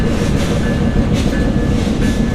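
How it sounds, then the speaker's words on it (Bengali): A passenger train rolls into a station in Bangladesh, a loud, continuous rumble of wagons with faint rhythmic clatter and a thin high squeal running over it. "একটা ট্রেন প্রবেশ করলো"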